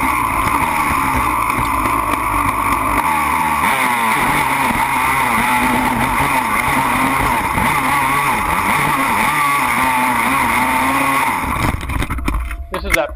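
A quad ATV engine, a 250R, Banshee or YFZ, revs hard and steady for about eleven seconds while it climbs a steep, powdery dry hill in Florida. Then it drops away abruptly into quiet. A voice talks over the engine.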